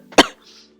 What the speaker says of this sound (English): I'm gonna cough again.